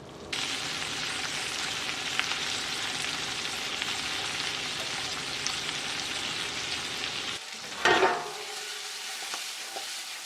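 Green beans with garlic and sea salt frying in a pan, a steady close hiss of sizzling oil that cuts off suddenly near the end before a short clatter of stirring; no voices.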